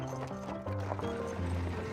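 Horse hooves clip-clopping along a city street in the early automobile era, a steady rhythmic trotting beat under a droning background hum, with no clear talk.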